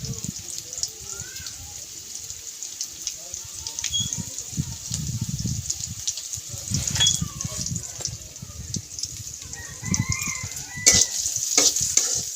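Onions frying in a pan give a steady close sizzle with bursts of stirring and scraping, and sharp clatters near the end.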